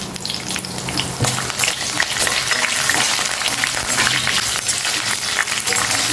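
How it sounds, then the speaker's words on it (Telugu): Dals, dried red chillies and green chillies fry in hot oil in a pan over a low flame while semiya pulihora is being made, a loud, steady, close sizzle with a few stirring scrapes. "చక్కగా లో ఫ్లేమ్లో పెట్టుకుని వేయించుకుంటే ఇలా ఎర్రగా అయిన తర్వాత పప్పులన్నీ ఒక 2 ఎండుమిరపకాయలు వేసేసుకోండి"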